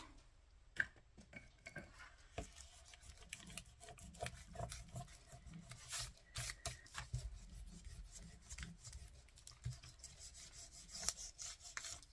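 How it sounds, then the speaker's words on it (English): Paper on a lace journal card being rubbed firmly by hand after gluing, a steady scratchy rasp with quick light taps and scuffs running continuously, close and alone. "Make sure it's all rubbed out as well."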